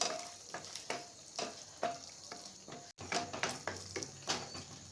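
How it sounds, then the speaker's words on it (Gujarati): Steady sizzling in a hot pan as spices with black pepper powder are stirred for lauki kofta, repeated scraping strokes of a spoon, close and fairly quiet, no talking. "હવે આ બધી વસ્તુને આપણે મિક્સ કરી લઈએ"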